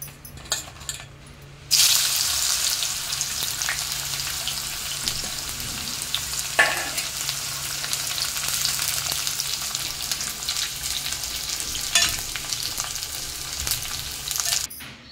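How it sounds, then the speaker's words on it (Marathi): Bitter gourd slices frying in oil give off a loud, steady sizzle that starts suddenly after a quieter moment, with occasional stirring clinks and soft bursts, and no voices. "अशाच प्रकारे राहिलेले कारले आपण फ्राय करून घेऊया।"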